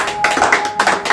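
People clap at a Maha Shivaratri gathering, a few loud close bursts of hand claps separated by brief pauses, with no other sound over them.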